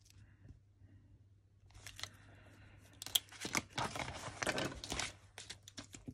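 Little paper check boxes are cut down with scissors, a quiet scene broken by a burst of crisp snipping and crinkling paper rustles in the second half, close and fairly faint.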